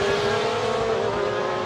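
An FIA GT race car at Adria Raceway roars by with a sustained engine drone, loud and close, its pitch shifting slightly as it passes, with no talk over it.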